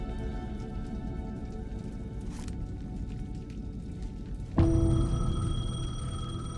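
Steady rain patters throughout, then a payphone in the video game Alan Wake 2 gives a loud electronic ring with bright tonal harmonics, starting partway through and continuing over the downpour.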